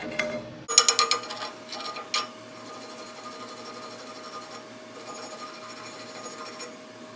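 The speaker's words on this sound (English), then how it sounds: "Get my Bob the Builder chipping hammer out. It's more of a scratcher" A chipping hammer scrapes and taps weld slag after MIG welding with a Vevor Mig Super 270, with a cluster of close, sharp scratching strikes early on, then a quieter steady rasp over a faint background hum.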